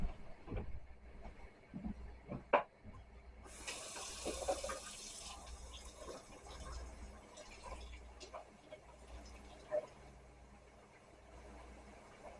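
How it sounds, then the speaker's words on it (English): Tap water runs steadily into a box in a home kitchen while chicken dumplings are made, a continuous hiss with a few clinks and knocks. "And put you some water in this box."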